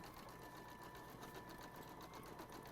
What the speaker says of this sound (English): this one is going to stitch the blanket stitch around the whole outside